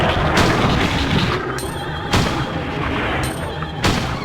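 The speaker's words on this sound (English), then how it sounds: "Just keep shooting him." Gunshots in the video game Resident Evil 2, a few sharp, loud booming shots spaced about two seconds apart over a dense, rumbling game background.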